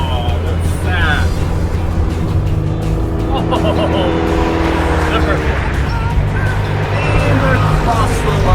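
A drag racing car roars close and loud as it accelerates hard through the gears up to fourth, engine pitch climbing and dropping with each shift, under excited commentary.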